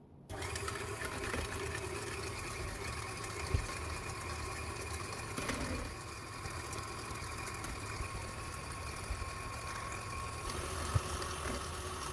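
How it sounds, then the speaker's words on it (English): An electric mixer whisks eggs and sugar together in a bowl, giving a steady, low motor whir that runs evenly from start to finish at moderate volume. "Whisking our egg and sugar together."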